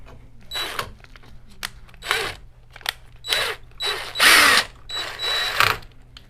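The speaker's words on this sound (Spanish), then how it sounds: "Otro tornillo aquí. Ponemos el otro tornillo." Screws being driven into an EMT metal electrical box during a 3-way and 4-way switch installation, with several short bursts of whirring and ratcheting, close and moderately loud, separated by brief pauses.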